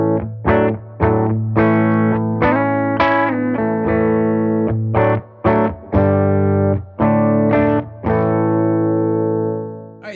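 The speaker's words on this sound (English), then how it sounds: "Silk Tone amp sounds like this." Heritage H535 electric guitar with Righteous Sound pickups played through a Silk Tone amp, giving loud, rich distorted chords struck in rhythmic bursts with brief gaps and sustained ringing notes, no talking.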